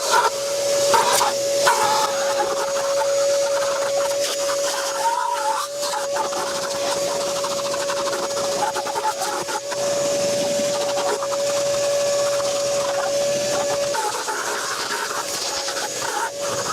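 A vacuum cleaner works over a car interior with a constant loud whooshing drone and a steady whining tone, its airflow shifting and sputtering as the nozzle moves across surfaces.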